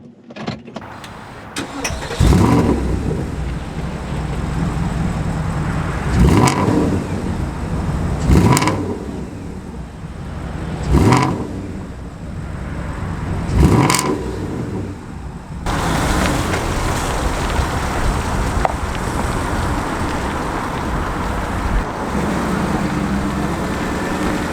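A 2008 Porsche Cayenne GTS engine starts and then revs hard several times in a row, each rev surging and falling back, before settling into a steady, loud idle. It is heard close by with no talk.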